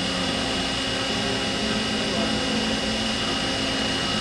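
An in-place milling assembly cuts the face of a rotating drum with a loud, constant droning whine and a steady mechanical hum that does not let up.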